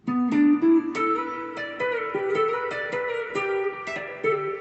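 An electric guitar plays a short lick of picked notes with gliding slides between pitches, moderately loud and played alone.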